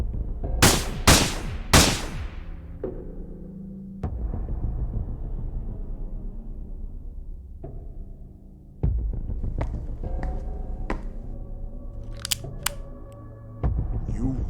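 Gunfire in the horror video game IMAGO: Beyond the Nightmares, a quick burst of loud, sharp shots at the start, then low throbbing hum and scattered impacts with a voice talking in places.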